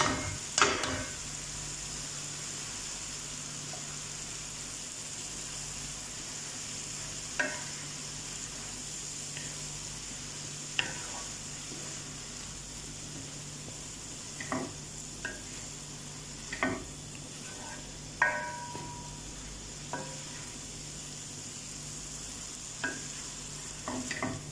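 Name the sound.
stir-frying boiled noodles with vegetables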